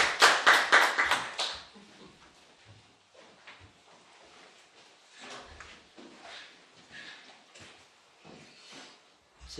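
Lecture audience giving a short round of applause after a speaker introduction, a brief burst of clapping that fades quickly into quiet room shuffling and faint sounds.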